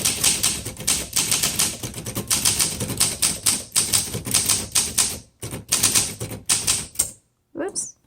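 A vintage 1962 Olympia SM7 manual typewriter in original blue clacks through quick, loud runs of sharp typebar strikes close up, with brief pauses and a final gap before some faint handling and a voice.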